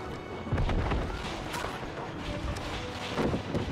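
Cannon fire booms during a large New World war battle between Syndicate and Covenant, a dense barrage of overlapping blasts and crashes rolling continuously under the noisy combat.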